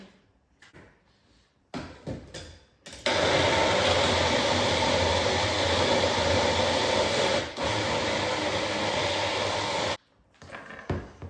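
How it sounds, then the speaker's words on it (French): A blender runs steadily for about seven seconds, a loud continuous whir that dips briefly mid-run, with softer handling clatter before and after. "Et maintenant, on doit mixer."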